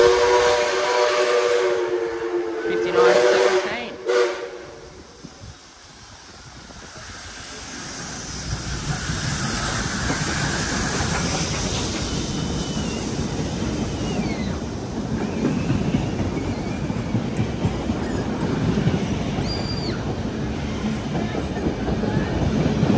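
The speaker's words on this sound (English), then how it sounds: "I've just seen a very cool sight. The Kiama picnic train." A heritage picnic steam train to Kiama passes near Oatley and Mortdale in Sydney, giving a short whistle early on, then a loud, steady rumble of carriages and hiss lasting through to the end.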